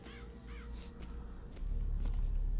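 Crows caw from the crow power in the video game Bioshock Infinite, a few rising-falling calls in the first second over steady game ambience that grows louder near the end.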